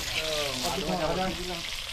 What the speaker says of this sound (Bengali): দুটো ভাই তো আলু ভাজছে এদিকে